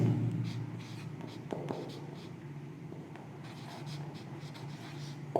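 A pen scratches across paper in short strokes while a math equation is worked out, soft and close, with light taps and pauses between marks and no talking.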